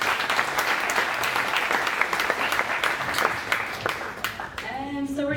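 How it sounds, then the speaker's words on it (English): Audience at a PyData Dublin tech meetup gives a sustained round of applause for a speaker, dense and steady clapping that fades out near the end as a voice begins. "let's give Barry a big round of applause."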